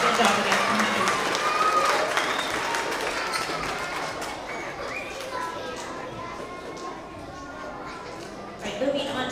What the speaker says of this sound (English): Another round of applause for all of our TK and Kinder Rory leaders